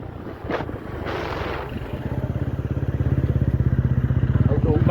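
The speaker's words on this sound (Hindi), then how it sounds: "भाई ये बाइक ऐसे चला रहा है जैसे प्राइवेट जेट को भी पीछे छोड़ देगा" A motorcycle rides along with wind buffeting the microphone, its engine building into a fast, pulsing putter that grows louder and steadier, while someone talks over it.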